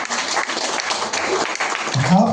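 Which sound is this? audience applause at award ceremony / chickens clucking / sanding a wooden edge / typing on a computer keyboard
audience applause at award ceremony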